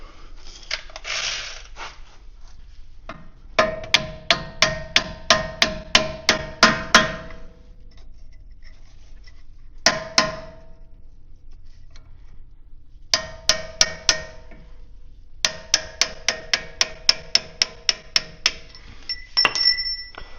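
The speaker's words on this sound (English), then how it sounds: "So this is my Timu ball peen hammer, 24 ounce." A new 24-ounce Timu ball peen hammer strikes metal on a Scout II Dana 44 front axle, giving bursts of rapid, ringing clinks in steady rhythm. Several runs of a dozen or so blows are separated by pauses, loud and close.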